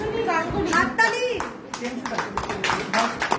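Scattered audience clapping for a participant at a certificate-giving event, brief uneven hand claps mixed under an announcer's voice and children's chatter.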